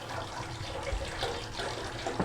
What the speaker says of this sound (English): we need cold water in this bowl